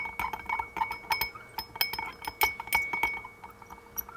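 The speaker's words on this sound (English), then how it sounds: "we need to stir this up first. The simple syrup together with the bitters." A spoon clinks repeatedly against a glass while simple syrup and bitters are stirred, a quick irregular series of bright, close chimes over about four seconds.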